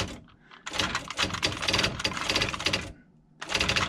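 Typing on an IBM Wheelwriter 30 daisy wheel electronic typewriter: dense bursts of rapid mechanical key strikes and print hammering, close and loud, with a short pause near the end before typing resumes.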